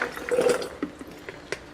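A container fills with warm Arizona tap water while carnitas meat is rinsed for an Instant Pot, with close splashing and gushing at first, then scattered drips and sloshes.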